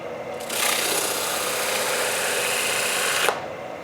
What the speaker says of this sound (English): heavy duty cloth back sanding belt.